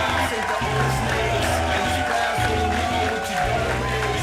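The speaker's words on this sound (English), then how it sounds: "Getting an ovation from this San Antonio crowd" A San Antonio arena crowd gives a wrestler an ovation as he leaves the ring, a broad sustained roar of cheers and whoops mixed with a commentator's voice.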